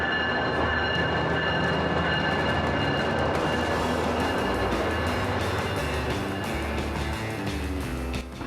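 A BrightLine high-speed passenger train pulls away from the platform, its sustained broad rumble and steady hum filling the scene close and loud without letup.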